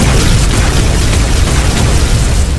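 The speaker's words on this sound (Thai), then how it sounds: "เดี๋ยวเราลองใช้ปืนนิวเคลียร์ตัวนี้ดู" A nuclear gun fires and explodes in Minecraft, a loud, continuous rumbling blast of dense noise that roars steadily throughout without any talking.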